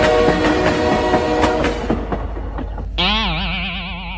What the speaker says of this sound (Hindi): अरे राजा, तुमने ट्रेन क्यों रोक दी? बहुत मजा आ रहा था।